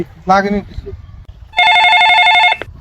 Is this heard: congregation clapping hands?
no